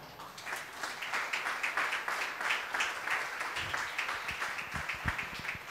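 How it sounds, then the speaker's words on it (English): A church congregation, standing during a service, claps hands together in a steady rhythmic beat, filling the room at a moderate level with no talking. "Give a good hand clap."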